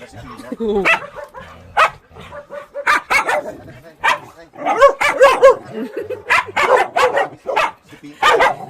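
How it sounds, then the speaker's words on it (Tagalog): Several excited dogs barking and yipping at home, sharp repeated barks in quick bursts close by, mixed with a person talking between them. "Kumakahol na si Pina."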